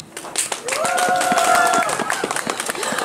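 Audience applause for a special guest at a live holiday baking stage show at Six Flags Great America theme park: sustained clapping swells and holds for about two seconds, with a whooping, cheering voice riding over it, then tapering.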